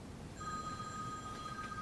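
A telephone rings during a keynote talk on IBM Watson and AI, a faint steady electronic tone that is distant and quiet under room noise, lasting most of the moment.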